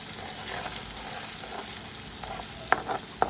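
Asafoetida and garlic fry in hot oil for mango thokku, giving a steady close sizzle with a few sharp pops and spatters toward the end.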